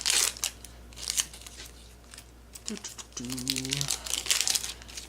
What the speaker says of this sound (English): Unwrapping packs.